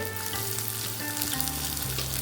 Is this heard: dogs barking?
no